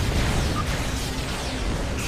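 Weapons fire and explosions in the space combat game Star Trek Online, a dense, continuous roar of blasts and bursts throughout, loud and close with no talking over it.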